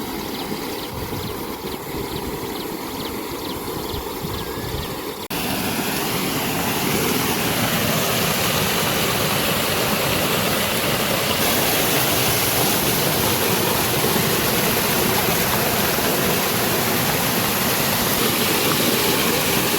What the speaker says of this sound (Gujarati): પાણીનો ધોધ પડે છે.